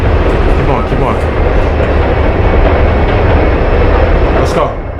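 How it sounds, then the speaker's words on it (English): Train in the video game Subsurface rumbling continuously with dense clattering wheel noise, loud and close throughout, with a voice talking over it at times. "I don't know what type of train this is."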